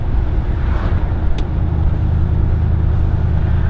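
A 2019 Ram Rebel 1500 pickup with a Carven cat-back exhaust drives with all windows and the rear glass down, a loud, steady low engine and exhaust drone mixed with wind and road rumble.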